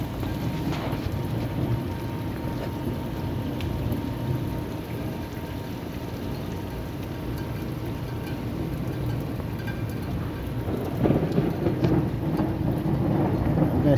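Heavy midday rain pours steadily in Jeddah, Saudi Arabia, with low rumbling thunder rolling beneath the dense hiss, swelling louder near the end.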